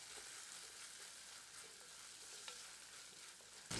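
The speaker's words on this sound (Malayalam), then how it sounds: "ഈ തക്കാളിയും കൂടെ നല്ലതായിട്ടൊന്ന് വഴറ്റിയെടുക്കണം" Chopped tomato sautes in a pan for a Kerala avoli fish curry, a soft, even sizzle with faint stirring scrapes throughout and a brief knock at the end, no talking.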